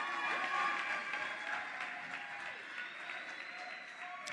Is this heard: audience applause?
yes